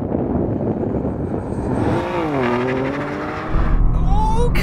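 A BMW M2 CS and a Bentley Flying Spur launch side by side in a drag race, engines roaring loudly as revs climb and gears change, with a sharper surge of power near the end; no talk over the noise.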